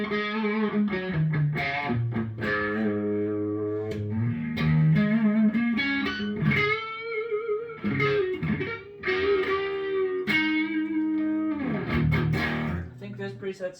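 An ART SGX Nitro guitar effects unit on a distortion preset with room reverb drives a Jackson RR3 made in Japan with Duncan Designed pickups, heard as loud, continuous overdriven chords and riffs with a roomy tail.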